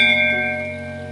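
A metal bell at Dhor Barahi temple in Tanahun, Nepal, its bells dating to 1876, rings once with a loud sustained metallic tone of layered steady overtones that slowly decays.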